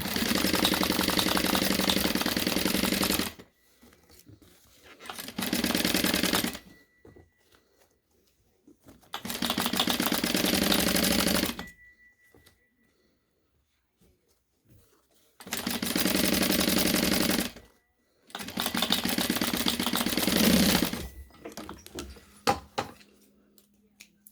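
A sewing machine stitches surgical wrap into a face mask in five loud, broadband bursts of steady whirring, each lasting about two to four seconds and separated by near-silent pauses with faint handling clicks, heard close and without any talking.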